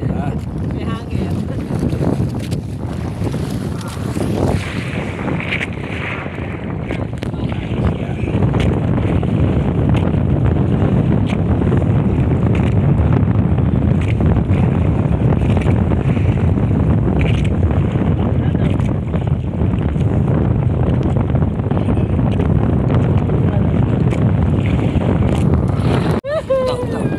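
Steady wind roars over a boat at sea, a broad continuous rush with water and hull noise beneath it, loud and unbroken for nearly the whole stretch.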